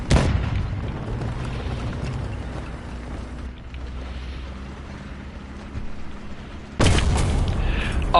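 A tank cannon firing in a tank battle video game, a deep rumbling boom that carries on through a long low roar, then a second sharp, loud blast near the end, with no voices.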